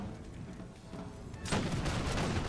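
Distant artillery pieces fire in Napoleon Total War, a muffled rumbling barrage that swells and grows louder partway through, over a continuous battlefield din.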